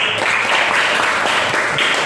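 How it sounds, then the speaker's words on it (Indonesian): A classroom of students applauds together, a dense steady patter of many hands clapping that carries at an even, loud level for about two seconds with no talking over it. "Tepuk tangan untuk kalian"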